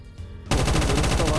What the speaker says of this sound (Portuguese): para de atirar assim!